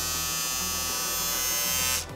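A new electric shaver bought from AliExpress runs steadily at close range, a loud constant buzzing hum that cuts off abruptly near the end.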